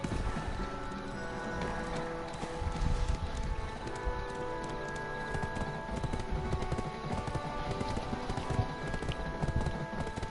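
Steady clip-clop of horse hooves runs continuously over a dense layer of background noise and music, with no pauses.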